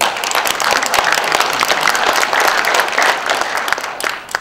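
A gathered audience applauding loudly and steadily, a dense burst of many hands clapping close by that fills the whole stretch without talk.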